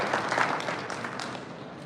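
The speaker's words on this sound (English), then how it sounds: "I think we need to applaud" Audience applause at a college engineering event, steady dense clapping from a crowd throughout, moderately loud and continuous.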